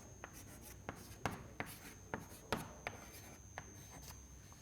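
Writing out a chart during a lecture gives quiet, close scratching strokes with about a dozen distinct taps and scrapes at irregular intervals over a faint steady hum.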